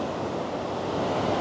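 Ocean waves at El Majahual beach in El Salvador, a continuous close roar of surf with wind noise buffeting the microphone throughout.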